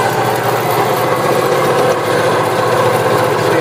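A Vectrax 7x12 band saw with hydraulic down feed runs its motor at a steady, even whirring hum, constant and fairly loud for the whole stretch with no cutting sounds.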